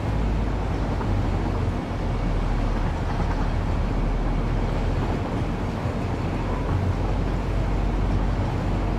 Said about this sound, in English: I just love the sound of these trains.